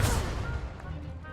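A booming Expulso spell blast explodes in the Hogwarts Legacy video game, a loud, sudden burst that rumbles and decays over about a second.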